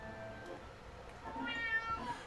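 A cat meows a few times in a short burst of rising, tonal cries near the end, over a low background murmur.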